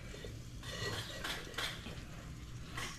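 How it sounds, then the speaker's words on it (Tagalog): A metal cooking pot is set down onto a lit charcoal stove, giving several clanking, scraping metallic knocks of cookware over steady low background noise, with no talking. "Lagyan natin tong kaldero."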